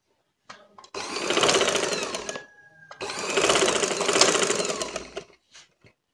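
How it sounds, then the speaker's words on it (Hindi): A sewing machine stitches the shoulder seam of a baby frock in two steady bursts of rapid, even whirring, with a short pause between them and a few light clicks at the edges. "अब मैं इसको सिलाई करती हूँ। पहले हम इसके शोल्डर जोड़ लेंगे"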